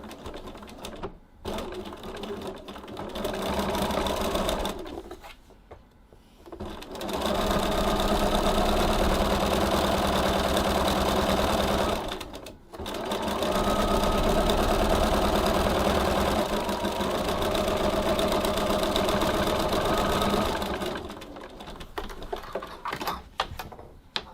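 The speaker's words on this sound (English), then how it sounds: "over to the sewing machine and we're going to stitch both straight, long, raw edges" A sewing machine stitching a long straight seam on a tote bag, a steady close whirring hum in two long runs with a short pause between, plus brief handling noises at start and end.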